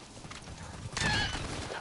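Horse in the video game Metal Gear Solid 5: The Phantom Pain, set in Afghanistan, with clip-clop hoofbeats and a brief whinny-like burst midway, steady and fairly close, with no talking.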